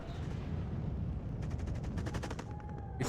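Rapid bursts of weapons fire in a WARNO real-time strategy battle, T-55 tanks in play, crack in dense volleys and machine-gun strings over a constant rumbling bed, loud and layered with no voices.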